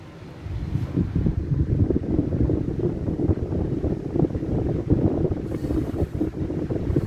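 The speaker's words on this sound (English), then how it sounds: "The largest, the noisiest part is actually the fans" A loud, steady low rumble of 3D printer cooling fans runs throughout, a dense continuous whir with no pauses.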